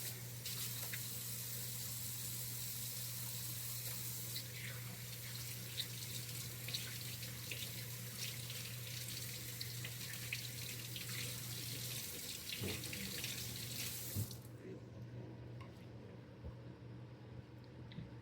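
A kitchen tap runs steadily into a sink as hands are washed under it, a continuous faint splashing hiss with a low hum behind, cutting off abruptly near the end.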